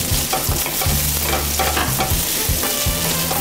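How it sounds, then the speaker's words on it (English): Basil sizzles in hot olive oil in a pan while a utensil scrapes and stirs in short, repeated strokes, close and steady, with no voices. "Now as I'm stir frying that, with just basil, that's all."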